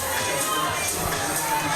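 A crowd at an indoor climbing competition lets out a sustained, fairly loud murmur and cheer of surprise, a broad wash of many voices with no single voice standing out.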